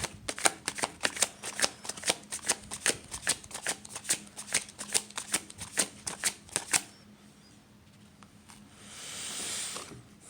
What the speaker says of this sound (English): So let's get another card out here for the 2-card terrifying tarot reading.